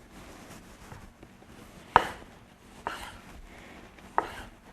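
Knife chopping a cored tomato into small corn-kernel-sized pieces on a board, with three sharp distinct cuts spaced about a second apart over a faint background.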